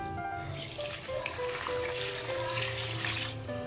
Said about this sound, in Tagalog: ito na lahat yung ating nakuhang kangkong at huhugasan na natin